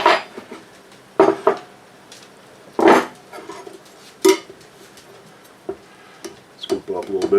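Korean-style BBQ pork stir-fry is scooped from a cast iron wok on a wood cookstove, with sharp scraping and clanking strokes of a utensil against the metal over a soft sizzle, and brief sounds of movement between strokes.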